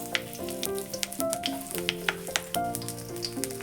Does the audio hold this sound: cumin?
yes